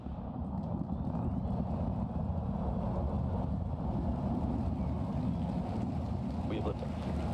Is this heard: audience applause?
no